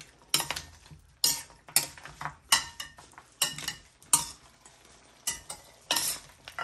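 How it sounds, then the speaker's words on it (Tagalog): Pork ribs caldereta being stirred in a pot, heard as a series of close, sharp scraping and clinking strokes of a utensil against metal, repeated in an uneven rhythm over a faint background sizzle. "Haluin lang natin ang haluin."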